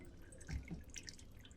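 Water trickles slowly through the funnel of a water structuring device with a metal mesh plate, dripping faintly into a vessel in a quiet room as soft, scattered drips and splashes.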